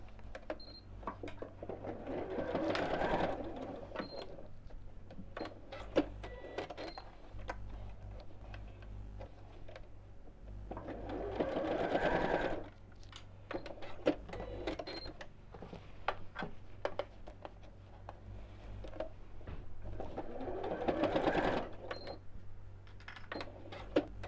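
A sewing machine stitches across the top edges of a reversible bag, close to the edge within the seam allowance. It comes in three steady runs of mechanical ticking and whirring, with quieter pauses between them and no talk.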